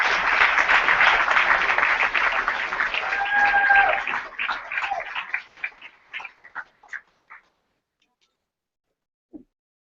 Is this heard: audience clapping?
yes